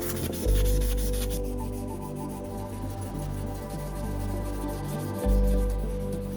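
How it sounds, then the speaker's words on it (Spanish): Fine sandpaper rubbing back and forth over a heavily burnt surface, steady scratchy strokes up close with a couple of louder thumps. "vamos a pulirla con una lija muy fina"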